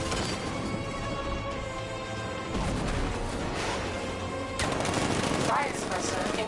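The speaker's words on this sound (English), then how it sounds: ".60mm cannon operational." Tank cannon fire in the Batman: Arkham Knight video game, a dense run of loud crackling blasts and bursts amid game music and effects, growing heavier in the final seconds.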